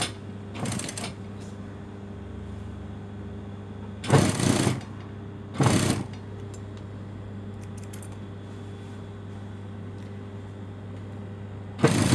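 A sewing machine stitches a dress hem with a lining in three short bursts, each a second or less, separated by quiet pauses with a low steady hum beneath.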